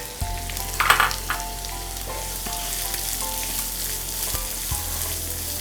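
Onions and green chillies frying in hot oil in a pan, a steady close sizzle with a few louder bursts and scrapes as they are stirred, no voices.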